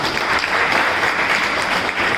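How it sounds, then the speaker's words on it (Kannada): Audience applause at a World Photography Day celebration event in Hukkeri, a dense, steady clapping from a crowd that fills the whole stretch at an even, fairly loud level. "ಅವ್ರಿಗಾಗಿ ಒಂಚೂರು ಜೋರಾಗಿ ಚಪ್ಪಾಳೆ ತಟ್ಟು"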